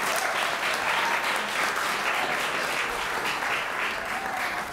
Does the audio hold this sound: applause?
yes